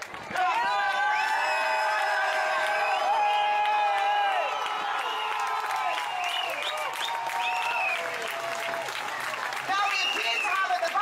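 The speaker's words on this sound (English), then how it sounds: "I want to give the biggest round of applause for our veterans of this country." Large outdoor crowd at a rally in Trafalgar Square, London, applauding and cheering throughout, with whistles and whoops over sustained clapping and shouting voices.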